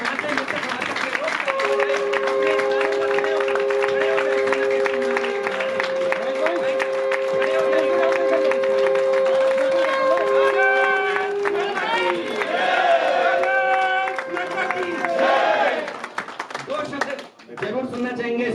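Audience applause at the 7th Atal Samman award ceremony in Vigyan Bhawan, a steady wash of clapping from a large hall crowd. Music and voices run through it before it trails off near the end.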